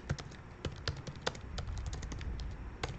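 Quiet, quick keystrokes on a computer keyboard tap in an irregular burst of clicks over a soft background hum, with no one speaking.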